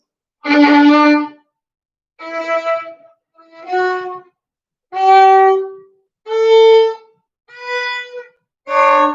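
Seven separate bowed notes, each scratchy and uneven with wobbling pitch and short silences between, like a beginner sawing clumsily at a violin.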